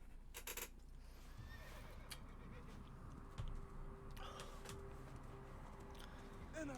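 A horse whinnies in the video game Assassin's Creed Origins, a bright neigh near the start over a continuous murmur of game ambience, with faint hoof and other effects scattered through the rest.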